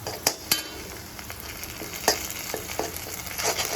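Lamb brain frying with garlic paste in a hot pan, a steady crackling sizzle broken by several sharp spoon scrapes and stirring clacks, close and moderately loud with no voices.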